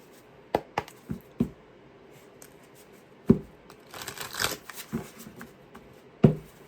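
A deck of tarot cards being shuffled up close, a series of crisp riffling snaps and papery flutters in uneven bursts, with a longer rustling stretch in the middle.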